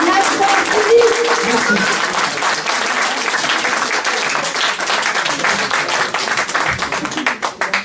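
Audience at a live music show claps in a loud, dense burst of applause, with voices mixed in early on and a few crisp individual claps near the end.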